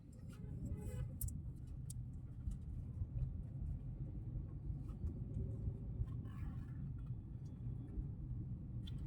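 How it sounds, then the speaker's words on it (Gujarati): Street traffic passes through the Padra town market, a steady low rumble of cars, bikes and vehicles with scattered horn-like bursts and clatter, moderately faint and continuous. "આ પાદરાનું ટ્રાફિક છે"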